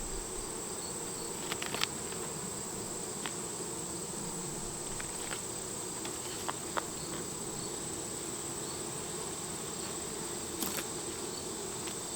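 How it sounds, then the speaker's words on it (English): Honeybees drone in a steady, dense hum from an open hive during an inspection, a continuous buzz of many insects at close range with a few faint clicks and knocks and no talking. "There are a lot of bees in here."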